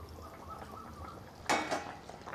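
A lid is lifted off a covered pot of black taro (kala kochu) cooking with crab: one sharp metallic clatter against the quiet background simmer, close by, with no talk.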